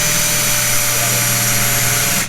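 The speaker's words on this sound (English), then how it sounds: "Make sure I don't drill into the window." A power drill runs steadily into the door panel of a Toyota Corolla during a central locking install, a loud continuous whine with a low hum underneath that stops abruptly near the end.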